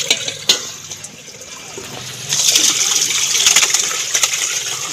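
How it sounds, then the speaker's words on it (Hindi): Spinach leaves being rinsed under an open kitchen tap, a steady gush of running water that grows louder and fuller partway through, with light splashing and handling noises close by. "पालक धो के खुले पानी के नाल ना तो मिट्टी वगैरह होंदी है ना फिर तो निकल जाती है।"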